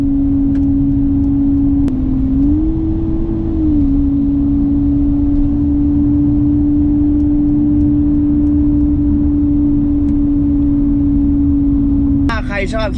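A phone app plays a synthetic car exhaust note while driving in traffic, a steady droning hum that rises briefly in pitch and stays loud throughout, with a short burst of another sound at the very end.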